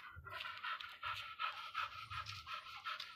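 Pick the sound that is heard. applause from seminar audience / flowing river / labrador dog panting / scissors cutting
labrador dog panting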